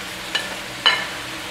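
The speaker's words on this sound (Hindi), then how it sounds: "नमक डालेंगे और फिर ये टमाटर डाल देंगे जो हमने दो दो टुकड़े किए थे" Salt and halved tomatoes drop into a sizzling mutton karahi for Bakra Eid, giving two short splashy bursts over a low, steady frying hiss.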